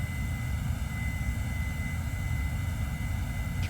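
Steady engine and wind roar of an airliner climbing just after takeoff in a flight simulator on a Toronto to Miami route, a continuous even rumble with no talking.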